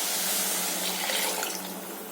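Dissolved tamarind water is poured into a cooking pot in a steady, close splashing stream that tapers off slightly near the end, with no voices.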